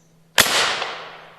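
A pressurized air slingshot fires a single sharp, loud crack in a quiet room, followed by a short fading ring.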